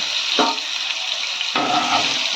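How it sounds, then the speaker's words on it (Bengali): Potato pieces lightly salted and frying in a wok of oil after fried onions are removed, a steady close sizzle with a burst of crackling as pieces drop in, no talking. "বেরেস্তাগুলো তুলে নেওয়ার পরে ওই কড়াইতেই দিয়ে দিচ্ছি কয়েক টুকরো আলু"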